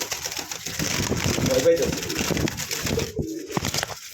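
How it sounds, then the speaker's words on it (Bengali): A pair of Koka pigeons, one male and one female, coo softly and repeatedly while a person talks over them. There is a low, steady background rumble. "এই পর্যন্ত দেখতে পাচ্ছেন স্ক্রিনে একজোড়া কোকা কবুতর আছে। খুবই সুন্দর ডাক"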